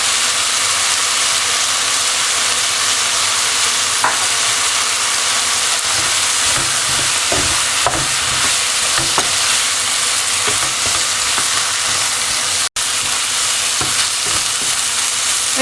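A canapé mixture with desiccated coconut cooks in a pan, giving a steady close sizzle with scattered scraping stirs throughout and no talk.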